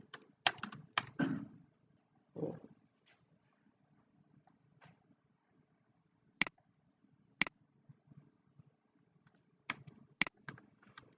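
JavaScript code is being typed on a computer keyboard at close range. Quick bursts of clattering keystrokes come first, then sparse single taps and sharp clicks with pauses between them, and no one talks.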